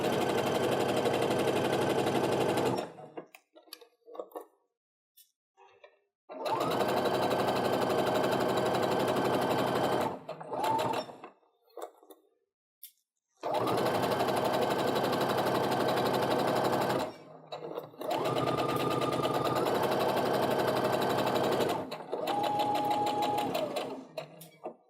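A sewing machine stitches a quilt block seam in four loud, close, steady runs, each stopping sharply and separated by quiet pauses with faint handling sounds.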